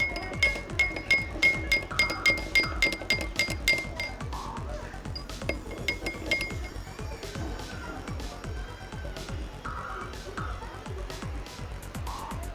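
A spoon or stirrer clinks repeatedly against a glass while lemon juice and salt are mixed, a quick run of bright taps at first that grows sparser and softer, with faint household background.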